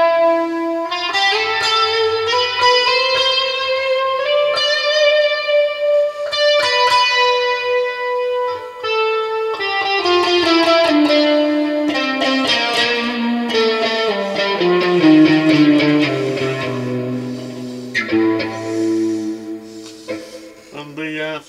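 A sustained, sombre electric guitar line rings out through a hall reverb setting with a long, spacious tail, notes blending into each other as they decay.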